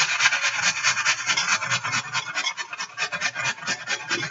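An onion being grated onto a plate, a steady close rasping scrape repeating in quick even strokes with no talking.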